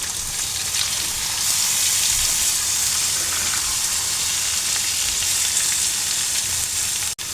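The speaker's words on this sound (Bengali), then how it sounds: "এখানে কেটে নিয়েছি কুচি করে আলু আর করলা, এটা ভাজি করে নেব একবারে দিয়ে" Chopped potato and bitter gourd sizzle loudly and continuously in hot oil, a dense, steady hiss that ends abruptly with a brief clatter.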